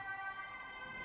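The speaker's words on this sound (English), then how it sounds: "police car coming." A police car siren passes outside, a steady wailing tone held at moderate distance, fairly faint and continuous, with no talking over it.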